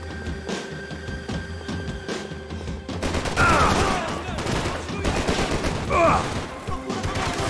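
Rapid bursts of gunfire from the shooter Max Payne 3 rattle through a busy, loud mix, with heavier volleys building in the second half and a voice speaking briefly under the shots.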